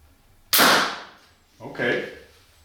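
A homemade bow with cheap home-built limbs shooting an arrow in a test: a sharp, loud snap and whoosh as the string releases, fading out, then a second, softer thump about a second later.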